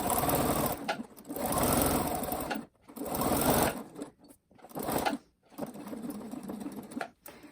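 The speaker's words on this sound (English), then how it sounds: "I can get a smoother curve on the sewing machine" Sewing machine running in several bursts of rapid mechanical stitching, close and fairly quiet, with short pauses between runs while sewing a curved slipper seam.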